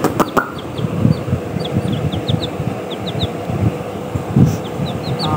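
Two young roosters or chickens clucking and squawking nearby in short repeated bursts, with high chirping calls scattered throughout.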